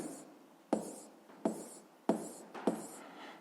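Chalk or marker writing on a board in a seventh-grade physics lesson, four sharp taps each followed by a short scratching stroke, close and clear in a quiet room.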